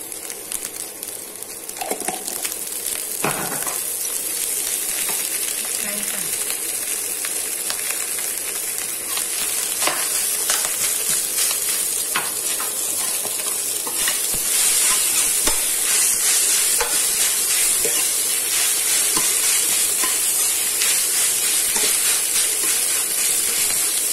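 Vegetarian salted-fish fried rice stir-fried in garlic oil in a hot pan: a continuous bright sizzle and hiss throughout, with occasional scraping stirs and clinks.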